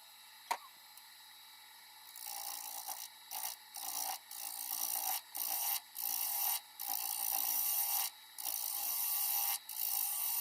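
A zebrawood keepsake box turning on a wood lathe while its bottom is cleaned up, giving a broad, rasping cutting noise in repeated passes with short pauses between them, close and steady, no voices.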